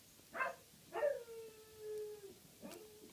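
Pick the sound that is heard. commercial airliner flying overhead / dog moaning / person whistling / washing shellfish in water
dog moaning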